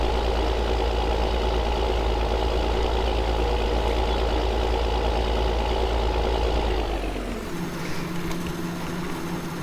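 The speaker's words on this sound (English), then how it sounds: "So I'm just going to move this tractor" A tractor engine idles steadily with a deep, continuous rumble, close and loud, then its pitch and level drop near the end as the engine settles to a lower idle.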